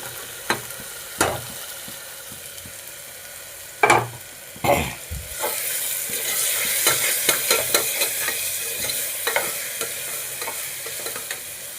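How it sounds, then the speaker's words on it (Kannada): Fried paneer cubes tipped into a hot pan with a few sharp clatters, then a steady bright sizzle of frying with repeated scraping stirs, close and alone. "ಇವಾಗ ಪನ್ನೀರು ಫ್ರೈ ಮಾಡ್ಕೊಂಡಿದ್ದು ಹಾಕೋತಾ ಇದ್ದೀನಿ."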